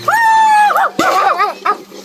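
A nearby dog gives loud, high, wavering yelps and whines in a quick series of cries, each rising and falling in pitch, with a low steady hum underneath.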